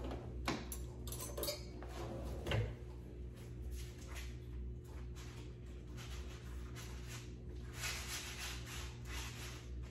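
Kitchen utensils clatter and clink during a rummage for a knife while quesadillas are being made, faint jangling bursts and scrapes near the start and middle over a steady background hum.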